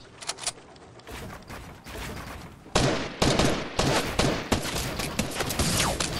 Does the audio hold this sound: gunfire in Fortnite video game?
yes